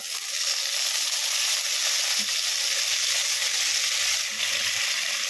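Curry leaves crackling in hot oil with black mustard seeds while making dhokla tempering, a loud, continuous, close sizzling hiss with a few faint low knocks, no talking.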